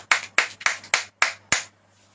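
Church congregation clapping in unison during a Hindi sermon on faith, six sharp, evenly spaced claps in a steady rhythm that stop suddenly, leaving only a faint low hum.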